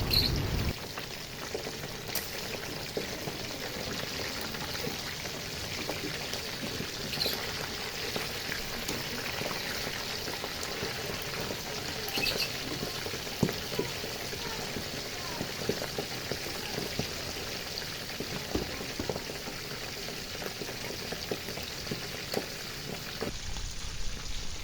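Duck (itik) frying in hot oil after being flipped to its other side, a continuous crackling sizzle with scattered pops running steadily throughout, fairly quiet.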